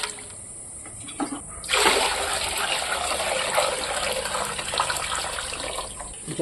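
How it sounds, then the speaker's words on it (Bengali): Water runs from a tap into a cooking pot being filled for rice, a steady splashing stream that starts after a short pause and continues close by until near the end. "আমি ডেস্কি বসিয়ে ডেস্কিতে জল দিয়ে দিচ্ছি"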